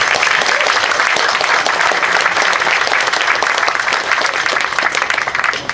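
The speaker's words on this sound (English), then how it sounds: "And please give them a round of applause for what they've done." Sustained, dense applause from an audience at a cultural garden dedication ceremony in Cleveland, loud and steady throughout with no break.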